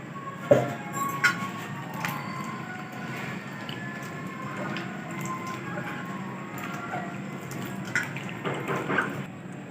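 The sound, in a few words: water poured over potatoes to wash them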